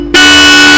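A Bosch Europa car horn blasts on suddenly in one very loud, steady, bright tone that holds without a break.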